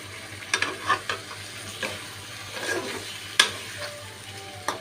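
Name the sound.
diced potatoes being sautéed in a pan for fish curry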